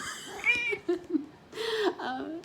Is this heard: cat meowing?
yes